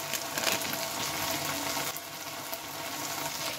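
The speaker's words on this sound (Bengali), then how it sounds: "এটা ভালোভাবে একটু নেড়ে চেড়ে নেব।" Cauliflower for thukpa cooking in a pan with salt, turmeric and chili powder, sizzling and frying steadily at close range with soft stirring scrapes and no voices.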